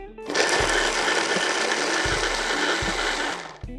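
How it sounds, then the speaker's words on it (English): A mini food processor blending onions into a fine paste gives a loud, steady motorized whir lasting a few seconds before stopping abruptly, with low thumps of chopping beneath. "I'm going to put this in our mini food processor. And then I'm just going to blend these together until they're a fine paste"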